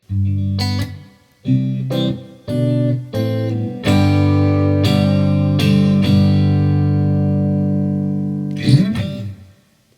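Electric guitar chords ring out through an amplifier, a few short strummed bursts followed by a long sustained chord that slowly fades, loud and alone.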